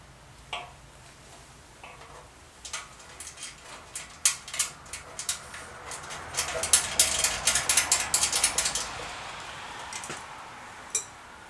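A ratchet clicks as bolts are screwed in on an Indian Trailblazer motorcycle, starting as sparse ticks and building into quick bursts of close, sharp mechanical clicking before stopping.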